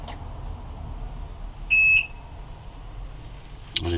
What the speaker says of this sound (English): let's try the key switch here, and we'll listen to the alarms go through